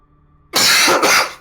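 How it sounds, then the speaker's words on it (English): A single sharp, close cough breaks out after a moment of near silence, a harsh burst lasting under a second with a brief second push at the tail. "Cough."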